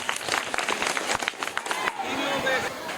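Classroom students clapping loudly for a correct answer, a burst of sharp, fairly close hand claps with some crowd noise, trailing into a teacher's voice at the end.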